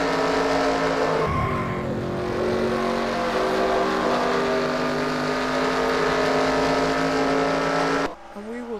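Race cars roar around the Darlington track in a racing video game, a sustained loud engine drone with one car passing close, then cutting off abruptly near the end.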